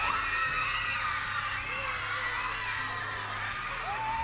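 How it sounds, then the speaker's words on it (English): School kids screaming together for a YouTuber at a school tour event, a sustained, shrill crowd of young voices shrieking and whooping without pause. "school tour where kids were literally screaming for him"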